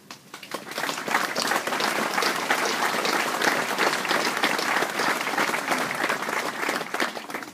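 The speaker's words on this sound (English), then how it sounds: "Please join me in another round of applause for them." Loud, sustained applause from a large crowd at a US Army Garrison Bamberg closure ceremony, many hands clapping steadily for several seconds before tapering off.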